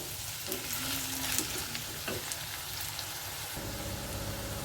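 Ground masala paste fries in oil for a Udupi-style gojju with a constant, dense crackling sizzle. Soft stirring sits under it, with no speech, at a moderate level throughout.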